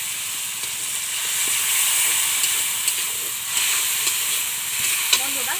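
Water poured onto spices frying in oil in a pan for a restaurant-style paneer curry made without onion or garlic. It raises a loud, continuous hissing sizzle of steam with faint stirring scrapes, heard close and alone.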